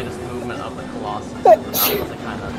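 Person sneezes once, loudly and close, over the sound of Shadow of the Colossus gameplay while a narrator talks.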